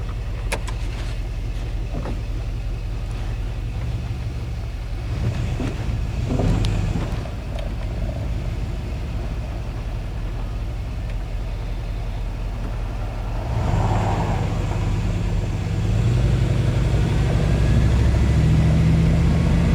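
A car with a joystick-controlled 4L60 automatic transmission pulls away, its engine droning steadily, then swelling louder as it accelerates through the gears, with road and wind noise and no talking.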